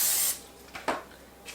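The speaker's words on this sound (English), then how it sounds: "So I spray my pan," Cooking spray hisses from a can onto a baking pan in one longer burst, then a couple of short quick puffs, close and fairly quiet.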